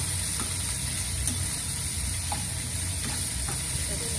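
Whole lote fish (Bombay duck) fry in a small amount of oil in a pan, giving a continuous close sizzle with faint occasional stirring clicks.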